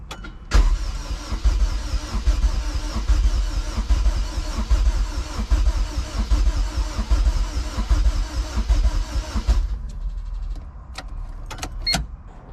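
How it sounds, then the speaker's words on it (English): A Honda K24A2 engine swapped into a CRX cranks over on the starter for oil priming, a loud steady mechanical churning lasting about nine seconds before cutting off, followed by a few sharp clicks. "definitely going to crank it over a little bit more to prime the oil"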